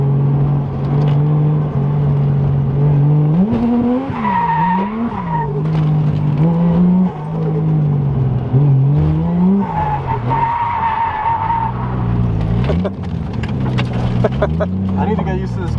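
A car drives and skids around the Ebisu circuit, its engine note rising and falling as the tires squeal repeatedly through slides, loud and close, with a voice talking now and then.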